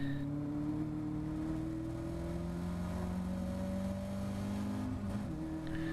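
A Caterham race car engine droning steadily during a circuit race, heard from inside the car with a sustained mid-pitched hum whose pitch rises and falls slightly as the engine note shifts, continuous and loud with no talking.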